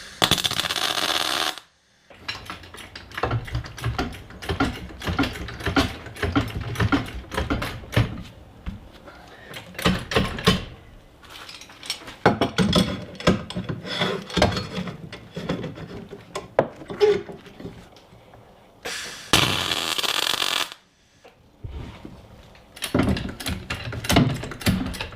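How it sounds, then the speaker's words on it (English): A welder tacks stiffeners onto the unibody of a Jeep XJ through weld-through primer, producing long stretches of loud, close crackling and sputtering arc noise broken by brief silent pauses. "the weld through primer welds okay. Seems to be welding all right."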